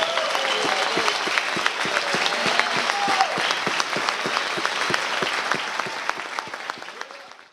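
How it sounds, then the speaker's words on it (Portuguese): A church congregation claps in a lively, dense burst of applause that is loud and sustained, then thins out slightly toward the end, with no talking over it. "nós damos aqui um brado de vitória e um grande aplauso ao Senhor"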